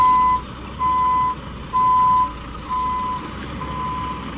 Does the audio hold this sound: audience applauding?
no